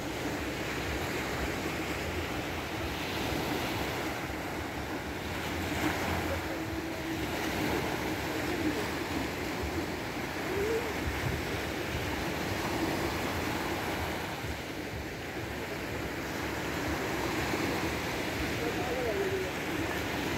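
Surf rolls onto the beach at Cabarete, Dominican Republic at dusk, a steady wash of waves and wind, moderately faint, with someone speaking German over it.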